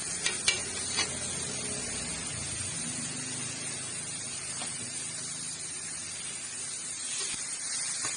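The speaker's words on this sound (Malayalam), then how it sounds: "സവാള ഇട്ട്, ഉള്ളി, അതിൻ്റെ അകത്ത് ഇച്ചിരി മുളകൊക്കെ ഇട്ട്, ഉപ്പൊക്കെ ഇട്ടിട്ട് നമ്മൾ നന്നായിട്ടൊന്ന് ഇളക്കി കൊടുക്കുക" Onions and chilli sauté with salt in a pan for kothu parotta, giving a constant close hissing sizzle with a few utensil taps near the start and occasional stirring scrapes.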